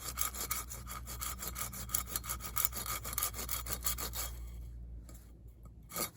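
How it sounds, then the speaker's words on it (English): Hand saw cutting through wood while making an Indian club, close rhythmic back-and-forth strokes in a quick steady series, ending with a pause and one last stroke. "So what I'm going to do is cut about 1 inch, 1 inch, 1 inch, 1 inch, 1 inch up to where my marker line is, all the way around"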